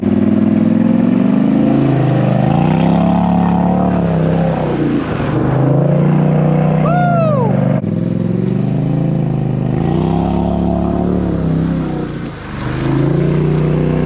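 A Polaris Sportsman 850 Highlifter ATV on 32-inch Assassinator tires revs loudly and continuously, its engine note climbing and falling in waves, with a brief dip near the end.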